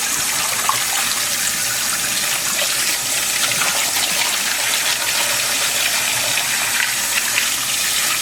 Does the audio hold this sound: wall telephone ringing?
no